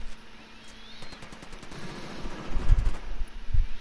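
Gunfire from Ghost Recon Wildlands: a few sharp reports at first, then heavier booming shots near the end, over quiet game ambience.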